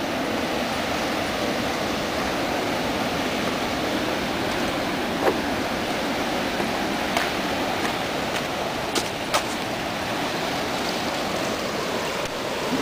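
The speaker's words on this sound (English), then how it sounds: "The Pacific Ocean, one of my favorite places." Pacific Ocean waves at Bodega Bay wash in as a steady, moderately loud hiss of surf, with a few faint clicks and taps over the constant wash of water.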